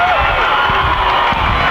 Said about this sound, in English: The Denman crowd are getting into this now.